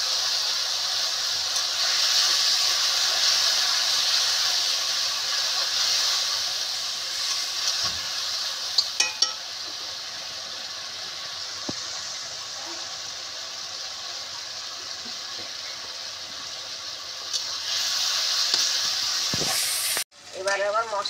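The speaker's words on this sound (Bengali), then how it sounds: "সামান্য একটু জল দিলাম যাতে মশলাটা না পড়ে।" Spice paste frying for a Bengali Bhola fish curry after a splash of water, a loud continuous hiss and sizzle that slowly eases, with occasional utensil taps and a sharp clatter at the end.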